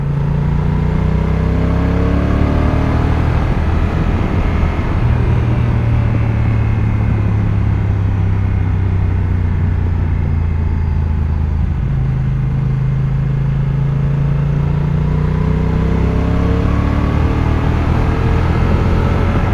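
A 2022 Honda NT1100 DCT motorcycle engine drones steadily throughout with strong wind rush, its pitch rising and falling gently as the bike cruises along.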